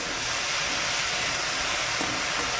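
Potatoes fry in a pan in a village kitchen, a loud, steady hiss and sizzle of hot oil filling the whole short stretch without pause.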